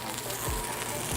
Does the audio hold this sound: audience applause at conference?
no